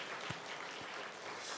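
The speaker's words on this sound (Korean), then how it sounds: "큰 박수로 한번 격려하겠습니다." A church congregation at a Friday late-night service claps in encouragement, a quiet, diffuse patter of many hands at a distance with a couple of soft low thumps.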